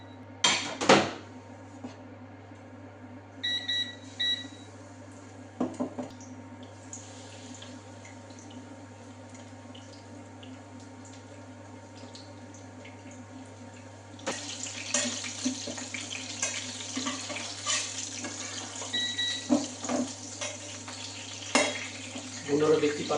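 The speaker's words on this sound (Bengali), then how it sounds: "বন্ধুরা দেখতে পাচ্ছেন কি সুন্দর ফিশ ফ্রাই হচ্ছে।" Fish fries in hot oil for a lemon-butter fish piccata, a continuous sizzling hiss that swells louder partway through, with occasional kitchen clatter and faint speech.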